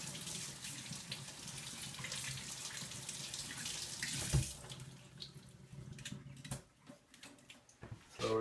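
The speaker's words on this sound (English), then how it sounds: "I just kind of rinse it real quick." Asparagus spears rinsed under a running kitchen tap, a steady close hiss of water splashing in the sink that breaks into uneven splashes and gurgles near the end as the spears shift under the stream.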